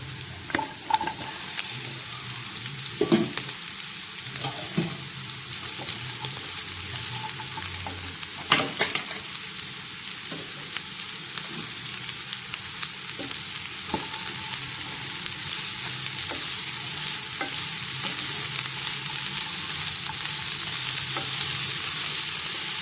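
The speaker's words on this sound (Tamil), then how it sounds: "ஒரு நிமிஷம் இதை வதக்கிட்டு ஸ்லோ பண்ணிடலாம்" Bitter gourd sautéing in a pan, a continuous close sizzle with occasional stirring clatters and scrapes from a utensil, steady throughout with no talking.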